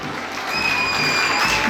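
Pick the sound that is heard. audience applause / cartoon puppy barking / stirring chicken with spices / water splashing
audience applause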